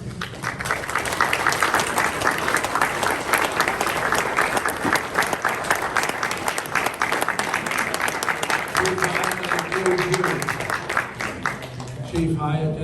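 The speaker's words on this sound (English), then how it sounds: "I would like to all of us to give yourselves a round of applause for staying the course for this forum" Audience at a Hawkins County mayoral candidate forum breaks into sustained, even applause that keeps a steady clatter for over ten seconds, with voices speaking under it as it tapers near the end.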